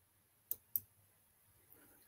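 A computer mouse gives two quick, close, soft clicks in a row while a contact is picked in a web chat app, then goes quiet, with no talk.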